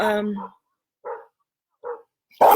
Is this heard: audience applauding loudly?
no